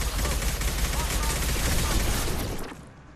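A firing squad shooting in the video game Mass Effect 2, a dense loud burst of rapid gunfire that rolls on for a few seconds before dropping away.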